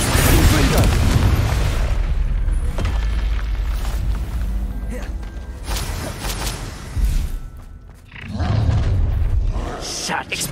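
A Confringo blast spell bursts with a heavy boom during a Hogwarts Legacy arena duel, followed by rolling roars and further impacts, with a voice calling out over the fighting.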